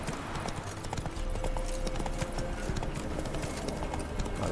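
Horse hooves clip-clop steadily in The Witcher III: Wild Hunt as the rider's mount trots along a road, a continuous close rhythm of hoof beats with game ambience behind.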